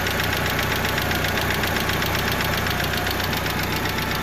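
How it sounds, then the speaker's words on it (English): Lifter tick from a 1995 Mitsubishi Eclipse GST engine, a rapid faint ticking within the steady, close idle drone, continuous and unaccompanied by talk. "it sounds like I got a little bit of a lifter tick, and those are called lash adjusters"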